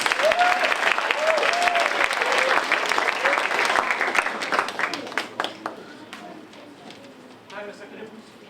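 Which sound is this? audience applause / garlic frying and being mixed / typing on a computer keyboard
audience applause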